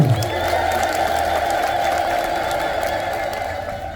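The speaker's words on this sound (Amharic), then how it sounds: "እልል ብላችሁ አመስግኑ" An Ethiopian Orthodox church congregation ululates in praise at a feast-day service for Saint Arsema, many voices blending into a sustained, high, wavering trill over a lively crowd din that continues throughout.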